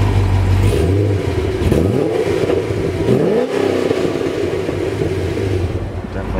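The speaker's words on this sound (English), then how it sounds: "Sounds incredible with the Corsa exhaust and the headers." A 2007 Chevrolet Corvette V8 fitted with Corsa exhaust, headers and SLP intake revs up loudly, its deep rumble rising and falling through several throttle blips close by.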